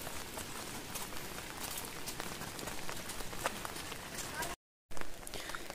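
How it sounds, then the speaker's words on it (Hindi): Heavy rain pours on a hillside path near a mountain village in Uttarakhand, a dense, steady hiss of drops with a brief dropout near the end. "आज तो काफ़ी तेज़ बारिश हो रही है"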